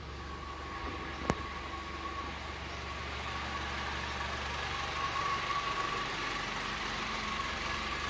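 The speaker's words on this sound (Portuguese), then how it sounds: "Não sei se vai dar pra pegar o barulho aí, mas ele tá batendo, ele tá dando tac, tac, tac, tac, tac, tac" A 2014 Honda Civic with a cold engine sits in drive with the brakes held, giving a steady low idling drone with a mechanical undertone and one sharp click early on; no one speaks.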